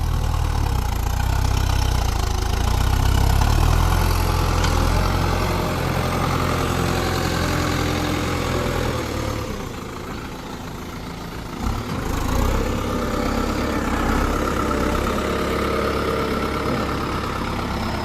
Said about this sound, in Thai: 89 แรงครับขุมพลัง 89 แรง 4 สูบเครื่องยนต์ไอวิโก